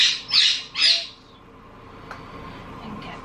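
Cockatiel calling in a kitchen during food preparation: three loud, shrill squawks in quick succession, then quiet room tone with a faint click.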